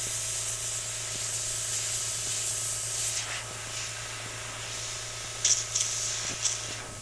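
An airbrush sprays, flushing paint through to run clean: a steady soft hissing air stream close by, with a few short sputtering bursts toward the end and no talking.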